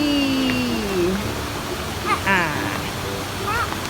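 Jet Sao Noi waterfall in Saraburi, Thailand, a steady broadband rush of falling water throughout, with a voice speaking over it and birds chirping faintly.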